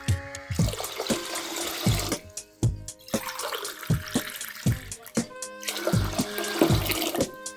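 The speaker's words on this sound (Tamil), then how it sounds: "அதே கப்பாலேயே 4 கப் தண்ணியை ஊற்றுவோம்" Water is poured from a cup onto washed basmati rice in a pot, a splashing pour that comes in several short spurts amid clinks and knocks of kitchenware, close and with no voices.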